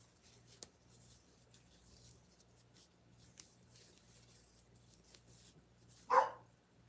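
A single dog bark rings out once near the end, after a few faint scratchy taps over a quiet low hum.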